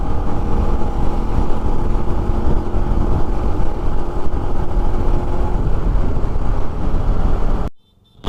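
A motorcycle rides along a road in Punjab on a long-distance trip, its engine making a loud, steady drone mixed with wind rush, unbroken throughout and without speech.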